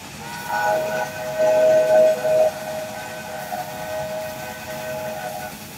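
The John Bull steam locomotive whistle sounds in a long, steady hooting blast with a second burst, over the hiss and rumble of the train.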